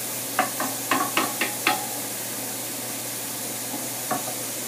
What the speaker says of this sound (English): you want to let the onion and the garlic sweat out a little bit